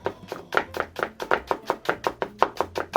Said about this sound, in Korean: 귀찮으니까 이게 한 번에 어슷썰기를 하겠습니다.